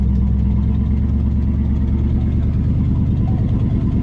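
A 1955 Buick Roadmaster engine idles steadily, a low, even rumble with a faint rhythmic pulse, close and constant, with no talk over it.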